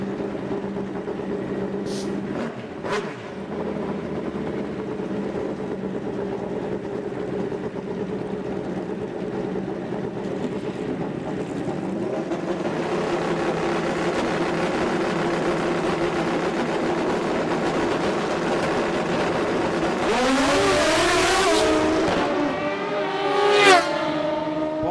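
A pair of Kawasaki bikes in a Pro Open drag race at a drag strip, engines droning and building in a rising roar, with a sharp revving surge and wailing pitch sweeps near the end, heard from a distance without talk.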